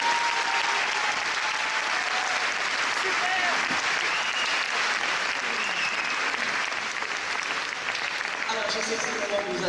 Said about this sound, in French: Donc voilà, on peut vraiment les applaudir,